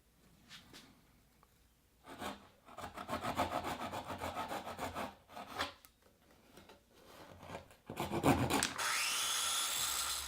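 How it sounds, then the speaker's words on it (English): A coping saw cuts an angle into notches on a wooden shelf, giving quiet rasping strokes in steady back-and-forth bursts with short pauses between them, close up and alone. "I will now finish up these notches by cutting this angle with a coping saw."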